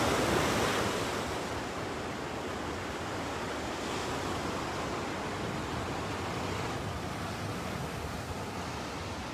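Ocean surf breaking continuously on a beach at Long Beach, New York, a steady broadband roar of waves with some wind, loud and unbroken, with no talking.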